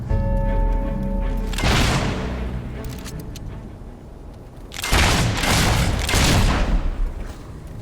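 Video game gunfire erupts in heavy, booming bursts, first a loud volley, then a lull, then another dense barrage, close and forceful with no talking over it.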